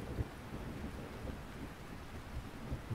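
Steady rain falls with low rumbling thunder in the farming video game Lightyear Frontier, a continuous soft wash of rainfall with deep thuds underneath, fairly quiet throughout.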